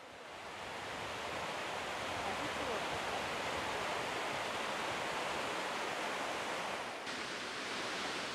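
Shiraito waterfall in Yamanashi Prefecture, fed by Fuji snowmelt and falling in many thin white streams: a steady, dense broadband rush of falling water, continuous and even throughout with no break.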